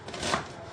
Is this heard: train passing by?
no